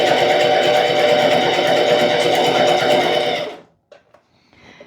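Sewing machine stitching a placemat, a loud rapid mechanical whir of the needle running steadily for several seconds, then stopping abruptly, followed by a few faint handling clicks.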